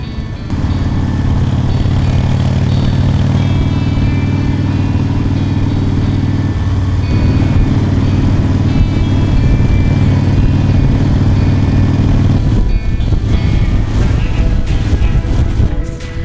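A Harley-Davidson motorcycle engine drones steadily and loudly at cruising speed on a freeway, a continuous low rumble with wind noise and a brief shift in tone partway through.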